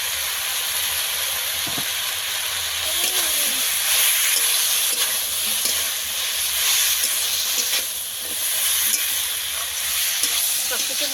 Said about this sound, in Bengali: আবারও একটু ভেজে নেব হালকা অল্প একটু লঙ্কার গুঁড়ো দিয়ে দেবো হলুদের গুঁড়ো